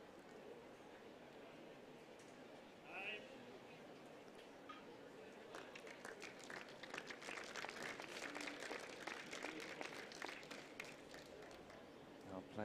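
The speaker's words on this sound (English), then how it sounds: "Our players resume with a generous clap courtside." Courtside spectators at a wheelchair tennis championship break into warm applause, starting after a brief call and swelling into sustained, dense clapping that fills the remaining seconds.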